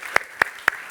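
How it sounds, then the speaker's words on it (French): An audience applauds at a French business talk, with four sharp, evenly spaced claps ringing out clearly over a quiet background. "On peut applaudir déjà"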